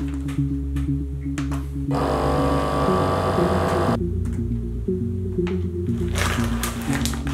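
A vacuum sealer working on a bag holding a whole chicken runs as a humming motor, then a louder, brighter buzzing pass for about two seconds. After that the steady hum carries on with a few clicks.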